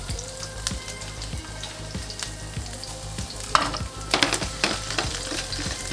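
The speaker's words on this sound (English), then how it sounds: "I'm not going to chop it, just smash and put in the oil." Smashed garlic cloves sizzle and crackle steadily in hot oil in a pan for shrimp tacos, with a few louder pops and stirring scrapes near the end.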